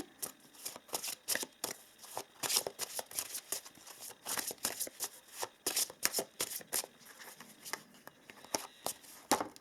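Oracle cards are shuffled by hand in a quick run of crisp riffling bursts and soft slaps, close and fairly quiet, continuing for around ten seconds with no talking.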